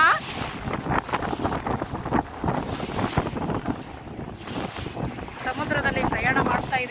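A fishing boat heading out to sea from Koderi harbour, its engine and the water rushing under heavy wind buffeting the microphone, with a voice faintly heard near the end.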